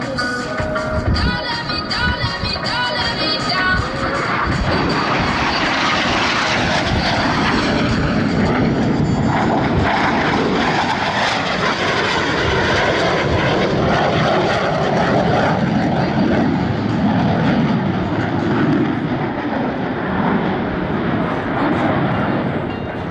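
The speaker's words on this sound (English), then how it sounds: "Approaching inverted from the left and right, they'll roll their aircraft 360 degrees crossing center point." US Navy Blue Angels F-18 jets fly opposing inverted rolls at the Vero Beach air show, a loud continuous roar of jet engines that swells and washes over the crowd, with a faint announcer voice underneath.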